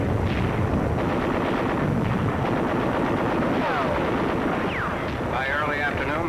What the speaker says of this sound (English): mortar, machine gun, and small arms fire meet the men as they hit the shore